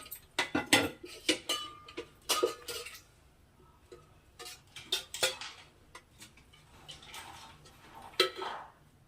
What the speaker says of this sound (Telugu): ముందుగా స్టవ్ వెలిగించి ఒక ప్యాన్ పెట్టాలి